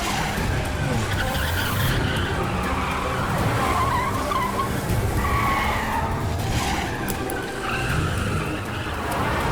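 Car speeding through a movie chase scene, engine roaring loudly with repeated tire skids and squeals over a dense, continuous rush of traffic and road noise.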